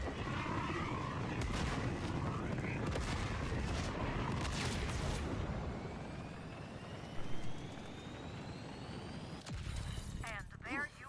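A giant cannon in Borderlands 4 fires, launching the player with a heavy boom and rumble, followed by dense roaring game noise and a rising whoosh of flight, with a few sharp sweeping swoops near the end.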